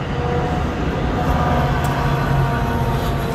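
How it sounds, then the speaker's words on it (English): Loud, continuous rumble of a passing train close by, a dense steady roar with no talking. "Train is not helping."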